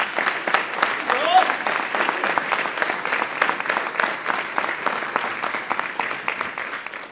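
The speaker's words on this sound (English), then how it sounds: "Please give them a round of applause." Applause fills a Marine Corps Ball banquet hall in Greenville, SC, a steady round of clapping from the seated guests that holds for several seconds and tapers off at the end.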